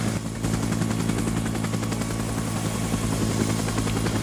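A helicopter flies in a video game, its rotor making a loud, steady, droning hum with a rhythmic beat that holds unbroken for the whole stretch, with no voices.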